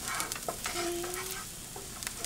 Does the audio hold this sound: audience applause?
no